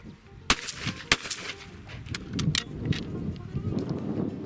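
A .410 shotgun firing a reloaded Remington STS shell: two sharp, loud reports about half a second apart, followed by quieter handling noise and faint outdoor background.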